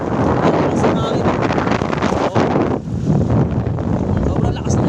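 Very strong wind at sea battering a fishing boat out in stormy weather, a loud constant roar and buffeting of the microphone, close and continuous throughout.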